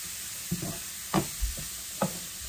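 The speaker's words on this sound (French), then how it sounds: "Donc on remue." Cauliflower rice frying in a pan, a soft low sizzle broken by a few distinct scraping stirs of a utensil at roughly half-second intervals, close and fairly quiet.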